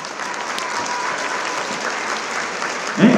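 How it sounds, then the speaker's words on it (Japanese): A crowd at a dance championship in a hall gives loud, sustained applause and cheering, a dense steady roar of clapping throughout. "会場の皆様、より一層大きな声援でご協力よろしくお願いいたします。"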